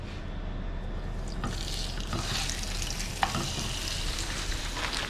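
Short rib frying in olive oil before shrimp goes in, a dense steady sizzle and crackle close up, with a single sharp clink partway through and no talking.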